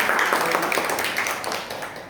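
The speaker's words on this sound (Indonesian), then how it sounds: "tepuk tangan untuk teman-teman" Classroom applause for fellow students: a short burst of many hands clapping together indoors, fairly loud and dense, gently tapering off.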